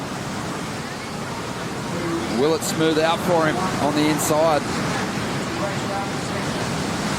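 Ocean surf breaks at Jeffreys Bay during a pro surfing contest heat, with a constant wash of white water and roaring waves under someone commentator's voice.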